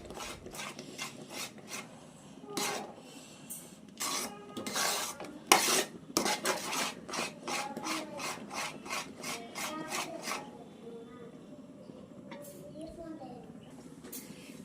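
Thick cashew barfi mixture being stirred in a pan, with a rhythmic series of scraping, rasping strokes that come quickly and loudly, then slow and soften toward the end, up close and alone.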